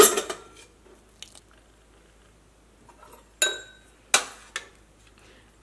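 Metal clinks and clatters of a pressure cooker lid being opened in a kitchen after cooking potato curry, a few sharp knocks and rattles scattered across otherwise quiet moments, close and fairly loud.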